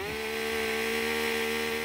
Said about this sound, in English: making sure chainsaws were purring along